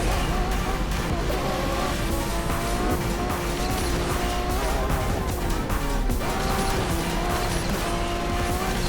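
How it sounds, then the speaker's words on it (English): A car in the Asphalt racing game driving hard with a Lamborghini Revuelto engine roaring, tires squealing and a clattering impact and scrape near the middle, loud and dense throughout. "No, God, I almost crashed there."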